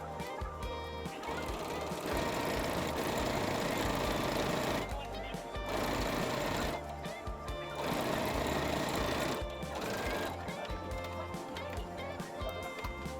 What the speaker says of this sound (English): fold the strap in half and sew it together by continuing the seam line we made earlier